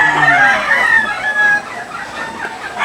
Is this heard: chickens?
yes